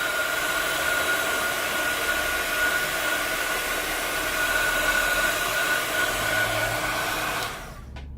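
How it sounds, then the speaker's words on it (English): A heat tool blows continuously to dry white ink on a stamped card, a loud, steady whooshing hum that switches off abruptly at the end, with no talking. "I'm just going to bring in my heat tool and just give that a blast."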